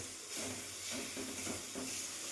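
Tomatoes frying in a pan, a soft hiss and sizzle with a few rhythmic pressing scrapes of a metal spatula mashing them, fairly quiet.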